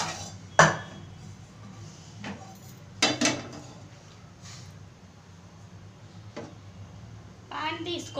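A cooking pan is handled in a home kitchen, giving a few sharp metallic clanks and knocks spaced through the stretch, with low room noise and some quiet background voices.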